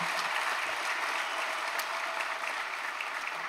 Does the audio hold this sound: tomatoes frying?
no